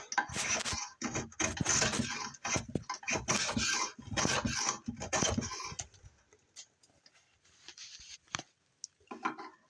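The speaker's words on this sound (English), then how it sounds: "who needs a planer? Pocket knife will do." A pocket knife shaves a wooden shelf board with a large knot, making rapid rasping scrape strokes close up for several seconds, then a few sparser, quieter scrapes.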